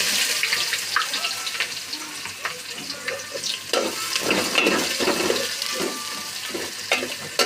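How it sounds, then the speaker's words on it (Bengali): Onions poured into hot oil with bay leaf, cinnamon and cloves for chicken khichuri, a loud crackling sizzle with stirring scrapes and bursts of spattering, close up and continuous, with no speech. "এখন আমি পেঁয়াজ ঢেলে দিচ্ছি"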